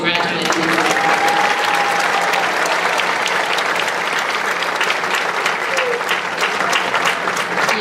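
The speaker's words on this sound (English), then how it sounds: "Please join me in a round of applause congratulating them." Loud, sustained applause from a high school graduation crowd, dense clapping continuing evenly throughout with some faint voices mixed in.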